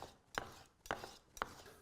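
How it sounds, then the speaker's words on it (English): Two knives chopping fatty meat into mince on a board, three soft separate thuds spaced about half a second apart, close and fairly quiet. "no one will make minced meat for us, as usual, with 2 knives"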